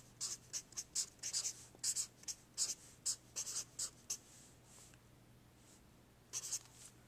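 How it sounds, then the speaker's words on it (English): Pen or pencil writing notes by hand on paper, quiet close strokes in short bursts with pauses between, alone over a faint steady hum. "Let's write Anti-Federalists at the top."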